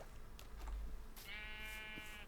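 A sheep bleats in a farming video game, one drawn-out wavering bleat heard faintly over a low background hum, with a few soft clicks just before it and no talking.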